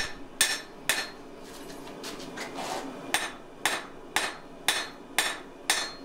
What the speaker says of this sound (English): So by forming a bevel, hammering in a bevel, you can really stretch the steel along that edge.